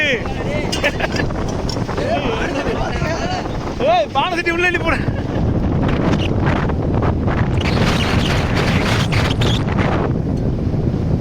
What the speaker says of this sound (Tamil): புயல் மாதிரில வருது காத்து.